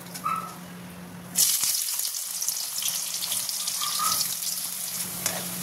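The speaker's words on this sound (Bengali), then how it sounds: "দেখো পেঁয়াজগুলো একদম লাল লাল করে ভেজে নিয়েছি" Sliced onions frying in hot white oil, a loud dense sizzle that bursts in suddenly after a quieter start and keeps hissing steadily to the end.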